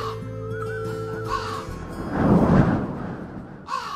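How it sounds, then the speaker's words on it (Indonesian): Crows caw repeatedly at night, harsh calls answering one another, followed by a muffled whooshing thump. "Suara burung gagak mulai terdengar bersaut-sautan, menambah aura mistis malam itu."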